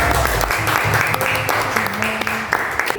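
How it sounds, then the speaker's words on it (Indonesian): A school audience at SMK Telkom Lampung claps after a presentation on positive school culture, with steady moderate applause broken by sharper individual claps and a low hum and voices underneath. "Beri tepuk tangan Bapak Ibu."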